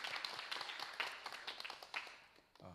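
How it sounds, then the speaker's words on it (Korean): A church congregation at a Sunday service claps in sustained applause, a dense spread of hand claps that gradually thins and fades toward the end. "우리 하나님께 영광의 박수 올려드리겠습니다"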